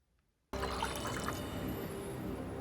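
Water pours suddenly after half a second of near silence in a Mandalorian episode, a loud steady splashing stream that continues to the end.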